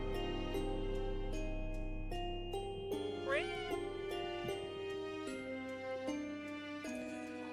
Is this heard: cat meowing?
yes